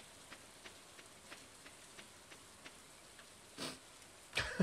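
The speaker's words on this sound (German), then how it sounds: "Oh, geil, Regen." Soft rain patters steadily in the Stardew Valley video game, a quiet even hiss of drops with faint regular ticks, then a couple of brief louder rustling bursts near the end, no talk.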